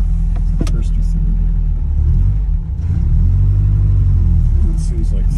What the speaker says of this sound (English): The engine's roarty as expected